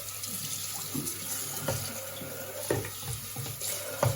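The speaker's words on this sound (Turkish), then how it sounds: "Şimdi içini yıkayacağım bunu güzelce." A container is rinsed inside under a running kitchen tap: a steady hiss of flowing water with occasional knocks and splashes as it is handled, close and moderately quiet, no voices.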